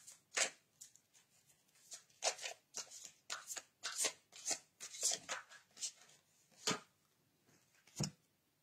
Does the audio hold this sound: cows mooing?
no